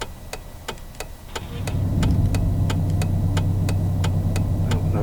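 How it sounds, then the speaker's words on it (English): Hazard warning lights of a car ticking in a driving simulator video game, a regular clicking pulse of about thirteen ticks over an idling engine hum that grows louder partway through. "Oh, no, the hazard warning's on."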